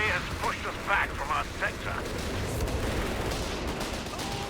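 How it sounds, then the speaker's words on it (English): A mortar barrage in Company of Heroes 3 booms as a dense, rumbling wash of distant blasts and gunfire that keeps going throughout, with voices talking over it. "Does that mortar barrage get cancelled when the model shooting it dies?"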